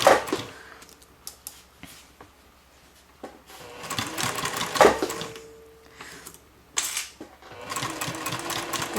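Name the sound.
sewing machine stitching fabric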